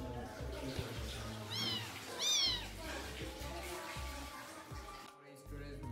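A pet cat gives two short meows in a Bangladeshi home, rising and falling, heard faintly over a low murmur of voices and household background noise.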